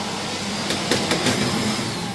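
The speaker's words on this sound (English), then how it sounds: "I was showing them the vacuum hairdryer." A vacuum hairdryer runs in a bathroom, making a steady, continuous broadband whoosh with a few faint clicks partway through.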